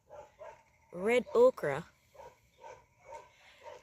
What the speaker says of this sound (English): And those dogs won't let me do my thing in peace.